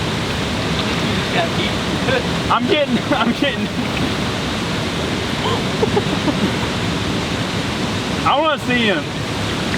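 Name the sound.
raging river water rushing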